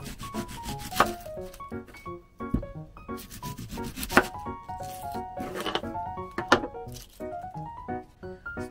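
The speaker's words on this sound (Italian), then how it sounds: "La stessa cosa facciamo con la cipolla. La sbucciamo, la tagliamo a pezzi e la buttiamo nella pentola." A knife chops a peeled onion into pieces on a wooden board, giving irregular sharp knocks and scraping strokes, close and fairly loud, with tonal background sound running under them.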